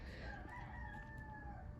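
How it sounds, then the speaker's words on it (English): A rooster crows outside in one drawn-out call, muffled and moderately distant over a steady background rumble. "if y'all hear that shit outside, the rooster be going cray-cray"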